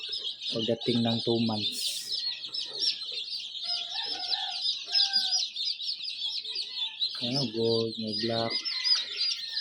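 A crowd of newly hatched chicks chirps constantly in high, dense peeps, while adult chickens cluck loudly at the start and again near the end and someone talks over the birds.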